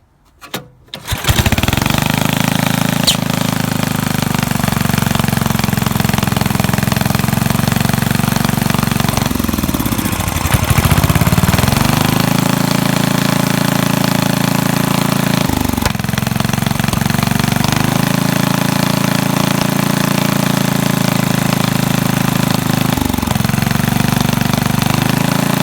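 A 1971 Rugg carpet cutter's small two-stroke engine running on 2-cycle gas starts with a few pops, then idles loudly and steadily with a rattly drone, its pitch briefly dipping and recovering several times.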